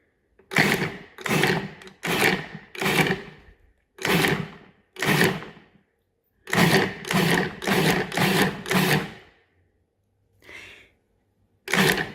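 Food processor pulsing cauliflower into rice: about ten short, loud whirring bursts in two groups separated by brief pauses, close up, with no talking.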